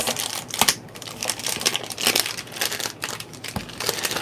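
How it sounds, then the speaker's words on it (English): Plastic wrapping being peeled off a handle during an unboxing of Sizzix craft tools, with close, loud crinkling and crackling in irregular bursts throughout. "So there's a little plastic on this handle."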